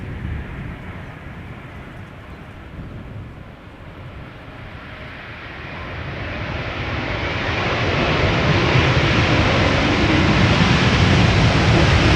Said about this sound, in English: Delta Airlines Flight 144 arriving from Seattle, Washington